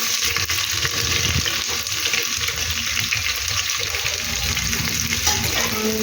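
Onion sautéing in ghee in a pan after star anise, cloves, cardamom and cinnamon have spluttered, a steady close sizzle and frying hiss running the whole time with faint stirring scrapes.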